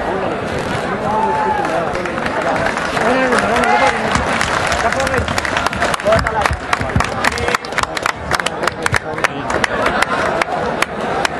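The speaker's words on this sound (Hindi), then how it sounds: "भरपूर तालियां टीम के लिए" A crowd at a cultural festival kabaddi event in Barcelona applauds while voices talk over it. The clapping thickens into loud, sharp, rapid claps toward the end.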